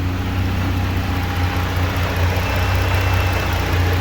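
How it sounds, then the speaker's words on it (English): A Jeep Gladiator with a 3-inch KM cat-back exhaust and a Magnuson supercharger idles close by, a loud, steady low rumble with a deep even drone and no speech. "That is the 3-inch catback Kuluin Mufflers exhaust, or KM exhaust, for the Jeep Gladiator."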